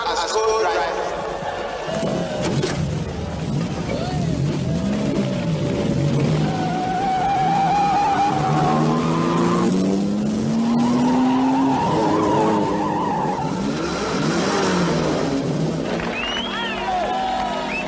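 A car starts and skids with squealing tyres in a staged drive, the President at the wheel and a co-driver beside him, with a crowd and talk going on throughout.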